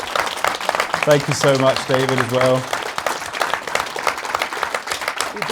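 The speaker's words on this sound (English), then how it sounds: "give this guy a huge round of applause, man" Audience applause at a Plymouth film premiere Q&A, steady clapping running throughout, with a voice talking over it in the middle.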